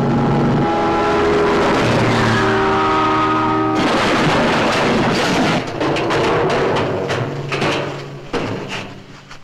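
A car engine roars and rises in pitch as the vehicle speeds closer, loud and steady, then breaks into rattling, clattering noise toward the end.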